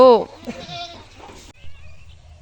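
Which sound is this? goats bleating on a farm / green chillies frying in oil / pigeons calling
goats bleating on a farm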